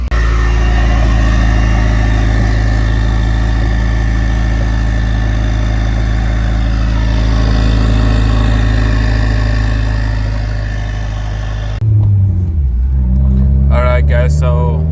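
A 2015–2021 Subaru WRX with a newly replaced turbo, fresh oil and new spark plugs runs on a test drive, its engine a steady loud drone that drops off near the end, with brief talk over it.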